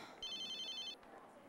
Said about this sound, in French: C'est mon portable!